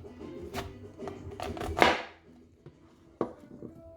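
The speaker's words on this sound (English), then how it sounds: "I'm going to slice this in half." A kitchen knife cuts a vegetable in half on a cutting board with a few close, crisp chops, one of them a louder crunching slice, followed by a softer tap.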